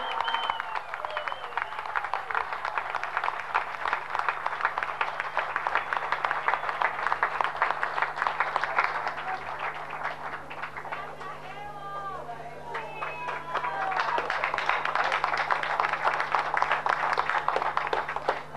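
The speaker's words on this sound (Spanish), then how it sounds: "Un fuerte aplauso, por favor." Applause fills a civic honor session marking 330 years of San Ignacio de Moxos in Beni, Bolivia: a dense, steady wash of clapping that dips briefly midway and then swells again, with crowd murmur and possible voices mixed in.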